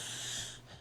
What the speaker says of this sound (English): Y'all just breathing hard today